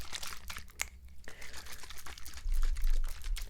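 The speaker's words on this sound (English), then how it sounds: "I am going to apply this Clinique Moisture Surge Spray." A Clinique Moisture Surge facial spray mists in short hissing bursts close to the microphone, soft and quiet, alongside faint handling clicks and rustles.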